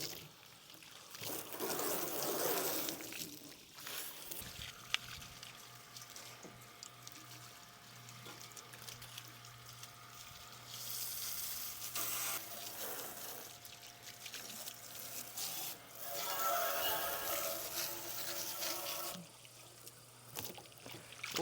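Metal three-point lime spreader being hosed off, water splashing and trickling against the steel in uneven waves, close and steady, with a low motor hum beneath.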